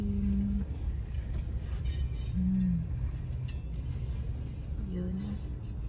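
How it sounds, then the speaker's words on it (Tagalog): A train rumbles steadily past a car stopped at a railway crossing, with a continuous low roar, creaks and wheel squeals throughout, and brief speech over it. "Stuck naman ako dito sa train."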